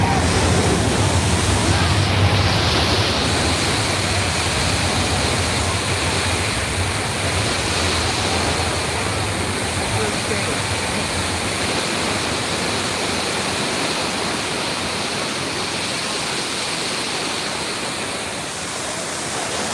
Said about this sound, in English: Oh, that's a lot of water.